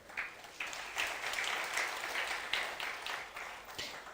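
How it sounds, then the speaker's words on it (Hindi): An audience at a religious darbar gathering in Pandokhar, Madhya Pradesh claps in a steady wash of applause lasting several seconds, fairly close and even, with no talk over it. "तो ताली जरूर बजा देना चाहिए, अच्छा लगता है।"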